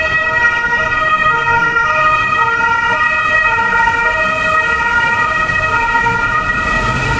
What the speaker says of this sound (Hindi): तो भाई एम्बुलेंस यहाँ से जा रही थी इस वजह से